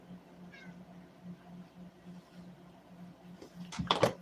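A cat meows indoors, a thin mid-pitched cry early on followed near the end by a louder, harsher burst of meowing, close to the mic over a steady low hum.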